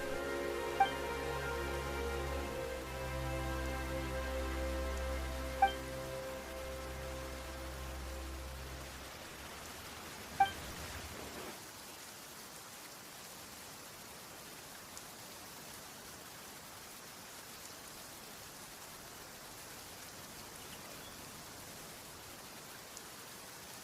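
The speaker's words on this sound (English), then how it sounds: "Why is it raining all of a sudden?" Steady soft rain hiss in Genshin Impact's Fontaine continues throughout, with a musical tone fading out partway through and a few faint drips or clicks.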